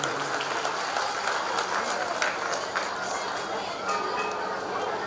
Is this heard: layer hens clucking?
no